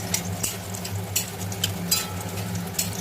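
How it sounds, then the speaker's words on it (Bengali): Bengali lentil dumplings (bori) fry in hot oil with a soft continuous sizzle and occasional spatula clicks, fairly quiet and close, over a low steady hum. "আমি বড়িগুলো ভেজে নেব। বড়িগুলো লাল লাল করে ভেজে নিতে হবে"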